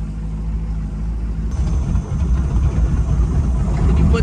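A low NASCAR engine in a Donzi 18 boat rumbles and idles steadily as it warms up, growing a little rougher and louder after a moment, heard up close with no speech.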